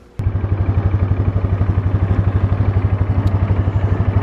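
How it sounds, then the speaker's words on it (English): A four-wheeler ATV engine running at night, a steady, rhythmic low chugging that holds close and even throughout, with no voices. "It's been a while since I've driven the 4-wheeler later at night."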